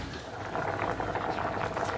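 A pot of buckwheat simmering at a steady boil, with a continuous bubbling hiss and soft popping close by, no talking.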